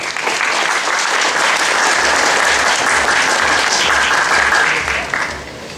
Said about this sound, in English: Please welcome Ms. Lisa with a big round of applause.